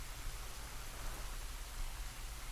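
Steady rain hisses in a farming video game, a dense even wash of falling drops with no voices over it.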